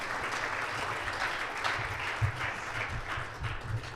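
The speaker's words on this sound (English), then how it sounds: "please give Jim a final round of applause" A business chamber event audience claps for a speaker in a steady, moderately distant round of applause that carries on evenly throughout.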